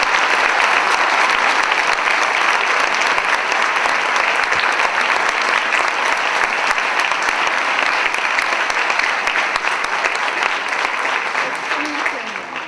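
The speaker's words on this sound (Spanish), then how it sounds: "Así que les pido un aplauso para Alicia" An audience at a university lecture applauds, dense sustained clapping from a large crowd that holds steady and begins to taper off at the end.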